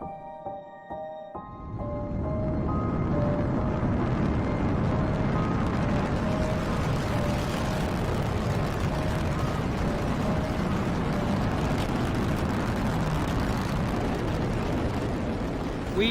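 A mighty Saturn V rocket launch roars in a deep, continuous rumble that swells after a brief tonal start and holds loud and steady throughout.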